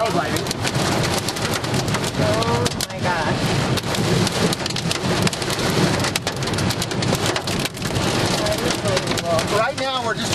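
Heavy rain drums hard and steadily on a car during a thunderstorm on a wet road, a loud dense patter with thunder rumbling underneath and a few faint voices.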